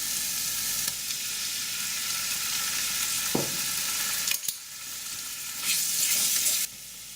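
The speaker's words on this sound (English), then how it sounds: "Now we've added and fried off our tomato paste" Tomato paste fries in a pan for pork vindaloo, with a loud, continuous close sizzle, a few stirring scrapes and one sharp knock partway through.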